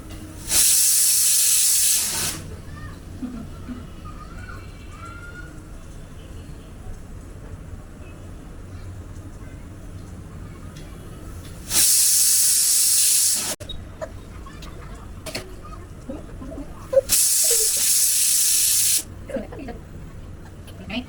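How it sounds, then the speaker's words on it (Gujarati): A pressure cooker whistle shrieks three times in a home kitchen, each burst of hissing steam lasting one to two seconds and standing out loudly against quiet household background. "કુકરની સીટી વાગતા ધ્યાનાભાઈ થોડા ડરી ગયા છે"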